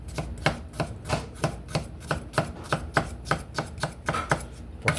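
Knife chopping onion on a cutting board for beef broccoli: steady, evenly spaced sharp thuds, about three per second, close and clear with no talking.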